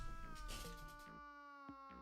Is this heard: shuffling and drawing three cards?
no